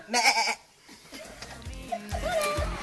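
A loud, wavering sheep bleat at the start, followed by softer bleats and low bursts mixed with murmuring voices.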